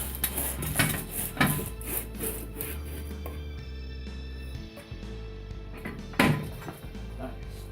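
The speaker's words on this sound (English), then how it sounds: "took an industrial strength degreaser and a Brillo pad and cleaned them all up." Suspension parts from a 1987 Acura Integra are scrubbed with a Brillo pad and industrial degreaser, giving close, rough rasping strokes in uneven bursts with short pauses.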